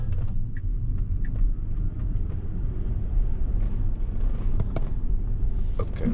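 A car passes on a damp road with a continuous heavy rumble and wet tire hiss, loud and close, swelling slightly without any clear peak.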